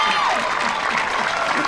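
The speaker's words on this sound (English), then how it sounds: "There should be a big cheer with this call." Crowd cheering and applauding at an archery shootdown in an open pro competition, a dense, steady wash of clapping and voices that stays loud throughout the short stretch, with a brief whistle at the start.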